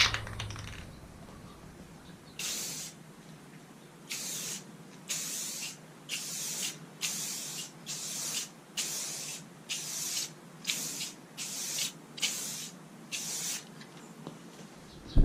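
A spray gun lays a second coat of paint on a 2002 BMW 540i E39 rebuild, heard as a dozen or so short hissing bursts in an uneven on-off rhythm, close and fairly loud, with no talk.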